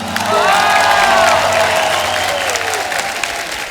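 A studio audience at a comedy-and-music qawwali night applauds a qawwali singer, producing a loud, sustained wash of clapping and cheering with tonal music and voices running through it.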